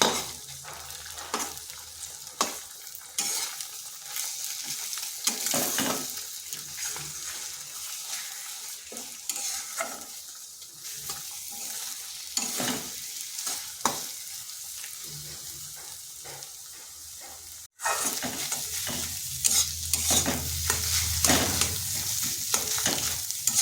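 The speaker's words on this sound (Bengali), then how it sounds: "ডিম আর পেঁয়াজ একসাথে ভেজে নিচ্ছি" Egg and onion fry together in a pan for a stuffed egg paratha, a steady close sizzle broken by repeated scraping and stirring strokes, with a brief dropout near the end before the frying resumes louder.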